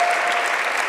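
An audience breaks into dense, continuous applause, a bright crackle of many hands clapping at once that fills the whole short moment.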